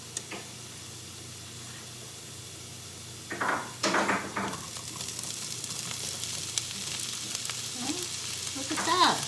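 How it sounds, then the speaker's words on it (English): Browned onions, then added peppers, fry in a pan with a constant hiss that swells into louder crackling bursts and stirring scrapes once the peppers go in. "So my onions are a little bit brown now. I'm gonna add in my peppers."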